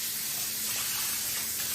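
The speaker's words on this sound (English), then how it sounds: "Let me just rinse this off real quick." Beef pieces for jerky are rinsed under a running tap, making a close, steady hissing spray of water with no talking.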